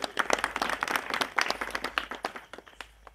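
An audience at a religious satsang gathering in Chalisgaon claps to welcome guests, a dense, lively round of applause that builds and then thins toward the end.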